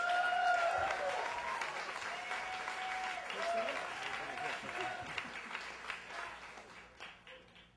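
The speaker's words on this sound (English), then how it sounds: "give him a big round of applause" A crowd claps enthusiastically, the applause loud at first and gradually fading, with a voice briefly audible over it near the start.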